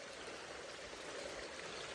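A small waterfall at Hariharapuram in Varkala, running low with only a side trickle, gives a steady close wash of splashing, rushing water that holds even throughout, with no voices.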